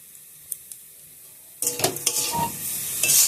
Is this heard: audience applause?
no